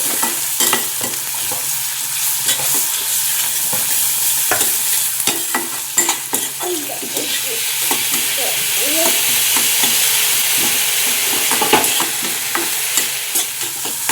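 Onions and tomatoes sizzle loudly in a hot pan for an egg ghotala, with a spoon scraping and stirring through the mixture again and again, crackling closely and steadily without any talk.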